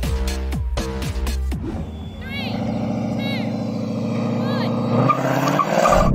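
An electric classic BMW 3.0 CSL and a modified Mustang launch side by side in a drag race, with a brief rumble, then a rising engine roar and tire squeal sustained loudly throughout.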